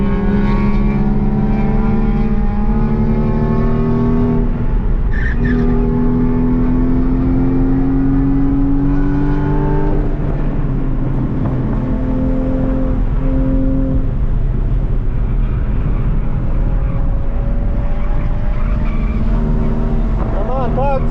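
A Porsche drives hard through a turn with its front tires losing grip. The loud, close engine drone rises and falls in pitch over about twenty seconds, with scrubbing tire noise mixed in.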